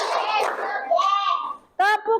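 A voice gives short counting calls in a classroom, with a quick burst of hand claps from the pupils between the calls, brief and close.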